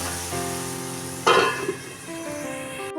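Water poured into a hot pan of fish curry with potato and aubergine sets off a sudden loud hiss and sizzle that rises sharply, then fades into a softer bubbling simmer before a clatter near the end.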